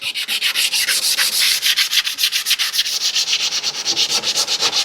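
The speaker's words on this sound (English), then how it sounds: "So I'm just gonna sand this down, trace my pattern, roll my pattern, and put some etching primer on this." Hand sanding of a rusty metal panel on a Chevy S10 crew cab build, a steady, close rasping scrub in quick back-and-forth strokes that keeps up without pause.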